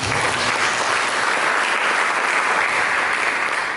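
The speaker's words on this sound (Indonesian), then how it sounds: "Tepuk tangan yang meriah" Lively applause from a church congregation during a sermon, a loud, even wash of many hands clapping without pause, close and full, with no talk over it.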